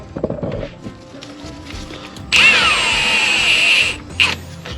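A power tool whirs for about a second and a half, running brake caliper bolts in on an Infiniti Q50, loud and close, followed by a short second burst; clicks and clatter of work sit around it.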